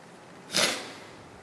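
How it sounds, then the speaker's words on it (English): A single sharp nasal sniff, close and brief, rising out of quiet room tone. "Excuse my sniffles"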